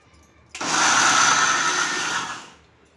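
A mixer grinder whirs loudly for about two seconds while coarsely grinding fresh corn kernels with chilli, ginger and garlic, then winds down to a stop.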